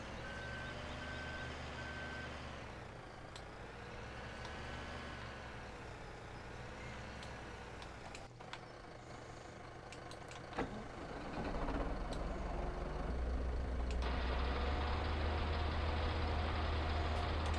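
A bale conveyor running in Farming Simulator 17, a steady loud mechanical drone with tonal whine and a backup-style beeping, shifting and growing louder partway through as other machine noise joins in, no voices.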